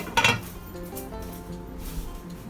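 A lid going onto a pot of green gram on the stove, one close metallic clink near the start, then a quiet kitchen hum with faint rattles and no talking.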